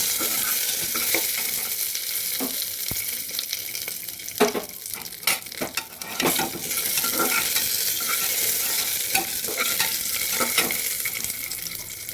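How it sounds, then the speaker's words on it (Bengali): Cashews stirred and frying in a pan for pulao, with a continuous sizzle broken by scraping stir strokes and occasional clinks, close and fairly loud with no talk. "কাজুগুলো হালকা নেড়ে দিচ্ছি"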